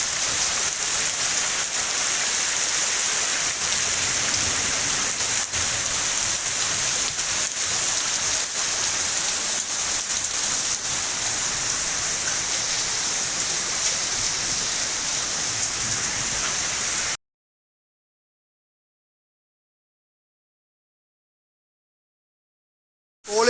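Heavy rain with hailstones pours down in Thalela village, a steady, dense roar of drops and impacts that lasts about seventeen seconds before cutting to silence.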